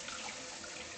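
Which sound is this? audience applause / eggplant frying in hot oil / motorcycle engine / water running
water running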